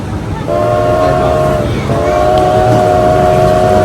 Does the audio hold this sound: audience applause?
no